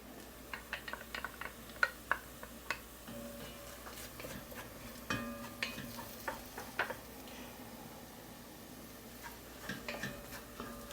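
Garlic sizzles in a hot pan for a Cajun shrimp Creole, with steady quiet frying under repeated clicks and taps of a spoon stirring against the pan, alone with no talk.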